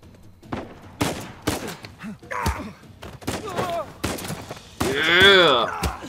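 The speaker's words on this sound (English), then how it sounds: "Who the hell's shooting me, huh?" Gunfire rattles in Uncharted 4, with bursts of shots and thuds mixed with a voice talking and groaning close up.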